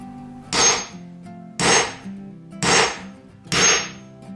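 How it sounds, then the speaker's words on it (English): Four evenly spaced hammer strikes on a nail set, driving nails below the surface of wooden boards in a sunroom being renovated; sharp, fairly close metallic taps about one second apart with quiet gaps between. "I had to go around the whole room and countersink them one by one"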